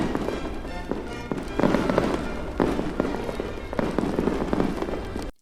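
Fireworks display on Bonfire Night with repeated bursts and crackles in a dense, irregular barrage, loud and continuous, with music in the background and no talking.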